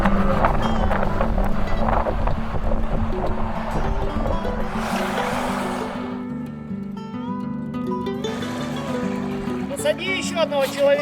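A Yolva 6 airboat runs across the water with a steady droning engine hum, wind buffeting the microphone and a brief louder whoosh midway, while people talk over it.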